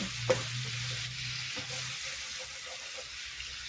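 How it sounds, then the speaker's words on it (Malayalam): A spoon scrapes and stirs in a pan of coconut milk and oil over a soft, constant sizzle of frying, with a few light clinks. Nobody speaks. "നല്ലതായിട്ട് കൈ എടുക്കാണ്ടൊക്കെ ഇളക്കിക്കൊണ്ടിരിക്കണം"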